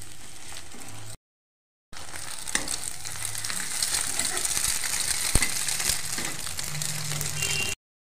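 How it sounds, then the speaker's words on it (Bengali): An egg fries in a hot pan with a steady crackling sizzle, close and fairly loud, broken by a short silent gap and a single sharp clink near the end. "তো প্রথমে ডিমটাকে ভেজে তুলে নেবে।"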